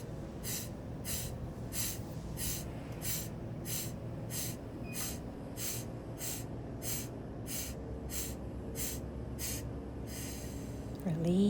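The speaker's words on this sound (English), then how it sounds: "Prepare for the last round. Deep inhale" Deep, forceful yoga breathwork with repeated rhythmic inhales and exhales through the nose, about a dozen sharp regular breaths over soft steady background noise, ending with a louder swelling breath.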